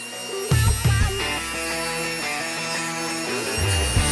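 A 2x4 wooden board is ripped lengthwise to 1.5 inches with a power saw, a loud sustained whine that drops in pitch as the blade bites into the wood.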